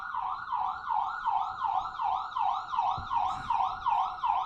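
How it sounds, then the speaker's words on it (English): Emergency vehicle sirens wail steadily outdoors, a cycling rise-and-fall tone repeating about every half second, loud and continuous throughout with faint traffic rumble beneath. "hoping World War III done started with all these damn sirens"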